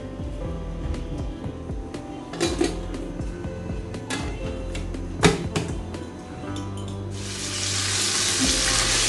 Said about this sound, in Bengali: মিটবলগুলোকে এভাবে আমি হালকা ভেজে নেব